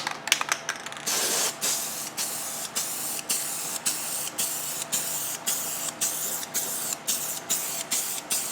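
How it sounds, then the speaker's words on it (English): A Rust-Oleum Custom 5 in 1 spray paint can hisses in a run of short, evenly spaced bursts, with a quick cluster of sprays at the start and then regular pulses close by. "that's the easiest way to spray paint if you got paint that's got that vertical spray"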